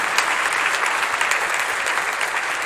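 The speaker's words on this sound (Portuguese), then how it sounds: "Uma salva de palmas para a Maiara." An audience gives a round of applause for Maiara at a church gathering, dense steady clapping that holds evenly throughout at close range.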